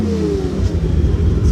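A Mazda RX2 race coupe's rotary engine revving hard against its rev governor, loud and close, with a falling whine followed by a choppy, stuttering rumble as the limiter cuts in.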